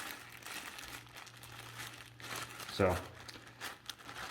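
Faint crinkling and rustling of Ziploc bags holding nuts, bolts and body trim clips, with one brief louder crunch midway. A quiet hum sits underneath and a voice speaks briefly.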